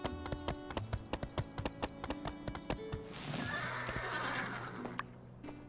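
In the video game My Time at Sandrock, a horse whinnies over a steady run of regular clip-clop hoofbeats, then a louder, rougher whinny and snort swells near the end.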